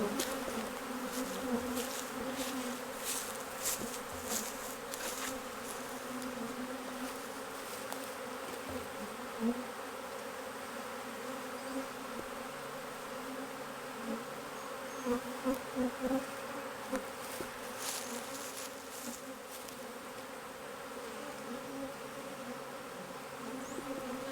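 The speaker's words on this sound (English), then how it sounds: "Shake the bees off." Dense, steady buzzing of many honeybees close by as bees are shaken off a hive's bottom board, a continuous hum with occasional louder passes of individual bees.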